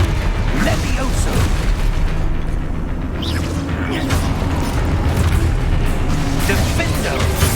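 Spell-casting blasts and explosions in the Hogwarts Legacy video game, a dense, continuous barrage of loud booms, bursts and crackling impacts with a voice shouting spell names over the top.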